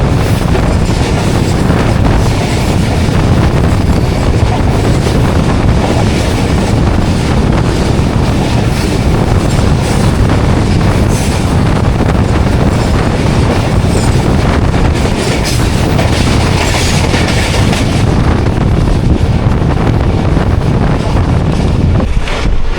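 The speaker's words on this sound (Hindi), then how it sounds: "Freight container train." A freight container train passes close by on a Pakistani main line between Karachi and Rohri, a loud, continuous rumble of rolling wagons and clattering wheels with heavy wind buffeting throughout.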